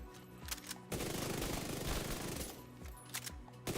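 Bursts of automatic assault rifle fire in The Division 2, loud rapid strings of shots separated by short pauses, with no talking.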